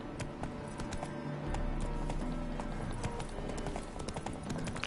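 Roach, the horse from The Witcher 3, trotting, a steady rhythmic clip-clop of hooves kept up throughout, close and clear over soft game ambience.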